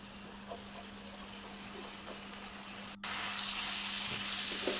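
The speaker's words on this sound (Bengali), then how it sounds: "একটু নেড়ে চেড়ে নিয়ে এইভাবে জল দিয়ে দিচ্ছি।" Mutton masala sizzles steadily in a pan, then at about three seconds ordinary cold water is poured in and the sound jumps into a louder, broader hiss and bubbling that carries on to the end. No one speaks.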